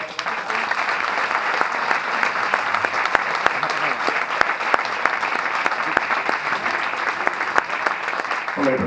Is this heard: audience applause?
yes